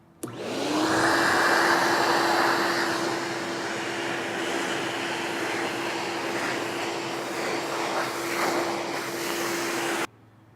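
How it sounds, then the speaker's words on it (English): A vacuum cleaner switches on abruptly and runs with a loud, steady whine and rushing airflow while clearing spackling dust off a repaired hollow door, then cuts off sharply near the end. "vacuum this off"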